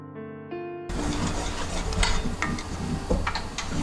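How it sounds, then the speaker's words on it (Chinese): Glutinous rice flour, sugar and water are stirred in a pot for nerikiri Japanese sweets, a soft rubbing, scraping swirl repeating close by, preceded by brief music, with no talk. "一直不断搅拌"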